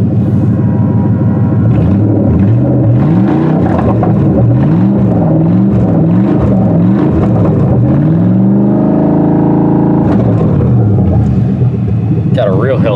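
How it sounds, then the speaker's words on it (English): Engine of a junked Lincoln Continental with 196,000 miles, idling loud and close with a steady low rumble and rising and falling revs, while someone talks over it throughout. "Got a real healthy sounding engine"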